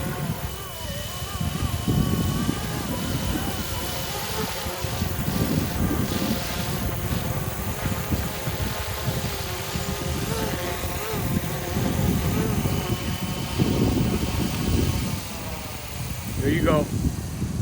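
A Roban MD-500 GPS radio-controlled helicopter with a four-blade rotor upgrade flies outdoors in gusty wind, its steady whirring rotor and motor drone continuous and fairly loud, with wind buffeting the microphone.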